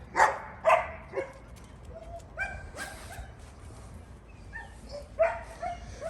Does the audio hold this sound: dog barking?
yes